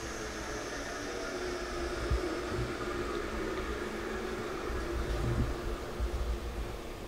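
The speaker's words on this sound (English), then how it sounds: "We're going to wait for that spindle to wind down all the way before doing it." Steady mechanical whir of a US Concepts FAS-101 arch moulder's spindle coasting down after switch-off, a continuous broadband hum and whoosh holding at an even, moderate level in a workshop, with a slight swell midway and no talk.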